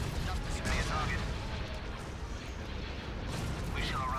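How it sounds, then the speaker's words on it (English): Heavy cannon fire in a Star Wars Republic at War space battle, dense booming blasts layered over continuous low rumble, loud and close, with a voice speaking over the barrage. "Overload the cannons and open fire"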